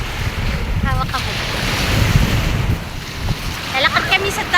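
Rough sea surf rolls onto a beach under strong wind buffeting the microphone, with a constant heavy wash and surge, while people talk briefly nearby.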